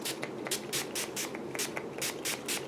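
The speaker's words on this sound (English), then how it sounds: "I'm using it as a setting spray" A facial mist spray bottle, used as makeup setting spray, pumps in a quick rhythmic series of short hissing bursts, about a dozen spritzes, close and fairly soft.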